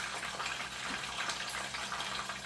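Egg roll filling leaks into hot frying oil, making a steady, dense sizzle and crackle that carries on without a break at moderate volume.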